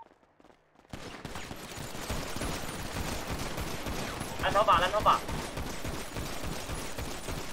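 Rapid bursts of video game gunfire erupt after a brief quiet start, crackling steadily under a player's excited shouted callouts, with a denser volley midway.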